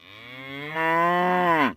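A bull cow, a male that reportedly dislikes other male cows, gives one long, loud moo that swells and then cuts off abruptly, heard alone at close range.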